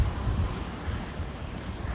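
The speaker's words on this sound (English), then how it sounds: "Right now it's windy and it's drizzling out here" Wind blows outdoors on a drizzly day, a steady low buffeting rumble on the microphone with no voices.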